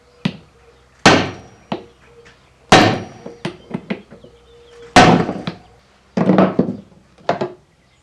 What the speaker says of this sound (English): we're going to employ the assistance of a heavy hammer